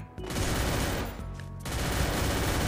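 Rapid gunfire in the shooter game Free Fire rattles in dense, loud bursts, broken by a brief lull before the firing resumes at full intensity.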